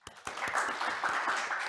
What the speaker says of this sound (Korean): 박수로 모셔볼게요.